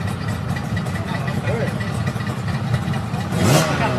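A motorcycle engine idles with a steady low rumble, close by, while people talk over it and a brief rev rises near the end.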